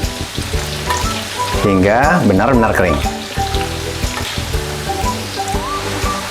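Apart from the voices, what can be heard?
tempeh frying in oil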